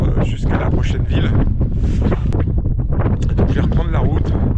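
Heavy wind buffets the microphone outdoors during a bicycle trip across western Kazakhstan, with loud, gusty rumbling roars that rise and fall continuously, and a voice talks through it.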